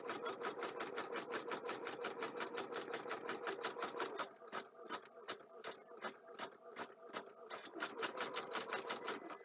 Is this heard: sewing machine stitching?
yes